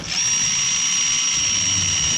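A DeWalt power drill runs in a sustained high whine while tightening bolts and nuts on a large metal sign, spinning up quickly and holding a steady loud pitch close by, with no talking.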